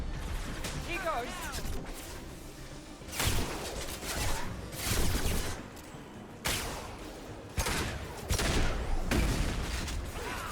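Heavy weapons fire in the video game Mass Effect 2, loud bursts of impacts and whooshing blasts arriving in uneven clusters over a busy combat background, with a voice talking under part of it.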